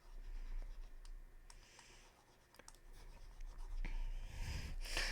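A pen scratches and taps across paper while sketching eye shapes for a spooky drawing, soft intermittent strokes and small clicks close up, with no talking.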